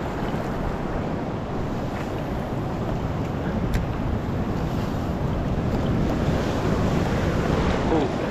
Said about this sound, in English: Just got to watch some of these waves.